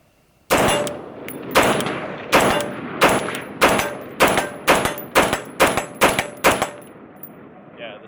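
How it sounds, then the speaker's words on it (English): An AR rifle with a Daniel Defense Mark 18 upper fires about eleven sharp, loud shots in a steady, evenly spaced string, each with a short ringing decay, outdoors at close range. "All right, so we'll put some rounds through the AR."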